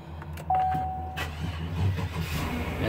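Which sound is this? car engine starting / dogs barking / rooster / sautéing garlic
car engine starting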